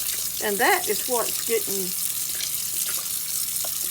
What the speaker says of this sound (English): now let's rinse this out and see how my sink looks after we rinse it out.